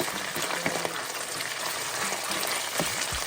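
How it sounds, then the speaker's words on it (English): Tomato paste and onions frying in a pot for jollof rice, a constant close sizzle with a few soft stirring knocks and scrapes, no talking. "And then you fry this for a while."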